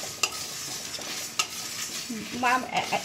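Coriander seeds dry-roasting in a pan with cloves, green cardamom, cinnamon and dried red chillies, giving a soft steady sizzle with a few scraping stirs and light clinks, close by and fairly quiet, with no talk.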